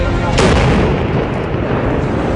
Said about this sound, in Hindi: एक धमाका हुआ